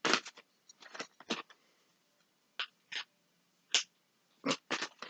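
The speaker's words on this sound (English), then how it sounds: "If you can hear that smacking, that's my dog." Pet dog eating nearby, giving wet smacking chews in short irregular bursts separated by brief pauses, close and fairly clear with no talking.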